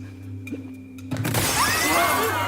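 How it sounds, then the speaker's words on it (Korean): A pane of tempered glass on a Squid Game film set shatters about a second in, a sudden loud crash followed by a bright spray of falling, tinkling fragments over a steady background hum. "유리가 깨지며 떨어지는 것도 CG가 아니었고 실제로 강화 유리를 깨지도록 만들었죠"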